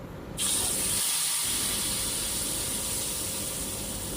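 Masala paste hits hot oil for an aloo soyabean curry and erupts into a loud, steady hiss of frying that starts abruptly and holds bright and close, with a brief stir dip partway.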